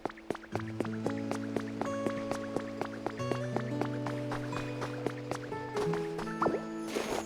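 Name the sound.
water dripping in water town, Pokopia video game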